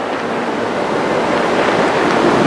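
Sea waves and strong wind over open water at Patong Beach, Phuket, a loud, steady rush of surf and wind buffeting the microphone with no voices.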